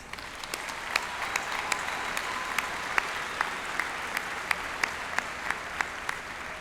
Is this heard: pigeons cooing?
no